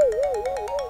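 A phone ringtone rings alone, a steady warbling electronic tone that rises and falls in a rapid repeating pattern, close and clear.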